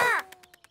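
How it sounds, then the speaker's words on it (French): A cartoon bird's caw opens with one loud, harsh call, followed by a few faint, quick clicks trailing off in a very short moment. "Oiseau!"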